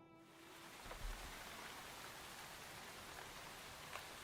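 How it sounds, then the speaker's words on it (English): Steady rain falls across the Central Plain, a dense, even hiss of drops with a couple of soft thuds early on, continuous and close throughout. "Now all of a sudden it started to rain."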